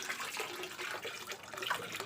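Water pours into a small backyard catfish pond, a continuous splashing gush that rises and falls slightly, heard alone without speech.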